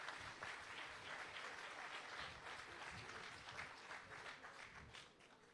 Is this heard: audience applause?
yes